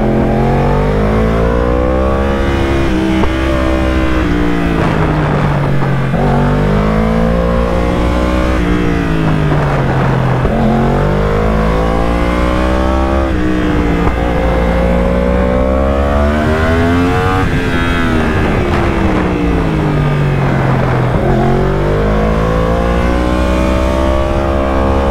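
A Yamaha R1 sport motorcycle engine revs hard and close, rising and falling in repeated throttle sweeps with a loud, sustained roar and no voices.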